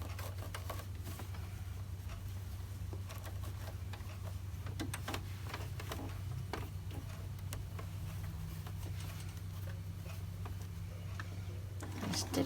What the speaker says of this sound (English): So I'm going to take my first row of stitching and I'm going to put it right against my presser foot again.